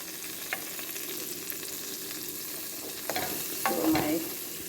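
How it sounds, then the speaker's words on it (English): Minced garlic frying in a pan while a toddler stirs it, a soft continuous sizzle with occasional spoon scrapes that grow louder near the end, no talking. "So my little one here is stirring the garlic."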